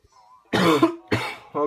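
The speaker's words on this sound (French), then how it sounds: "désolé si je tousse pas mal" One person coughs three times in quick, harsh bursts, close and clear, after a faint murmur at the start.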